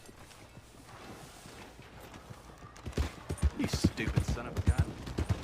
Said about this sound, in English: I'm just trying to return this guy's horse.